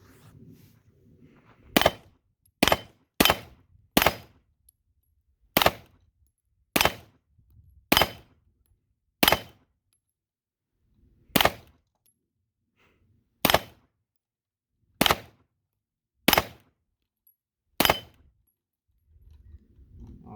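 Rifle shots during a durability test of a Crimson Trace CMR-208 rifle-mounted light: about a dozen sharp, loud single cracks, irregularly spaced with silent gaps between, some fired as quick pairs.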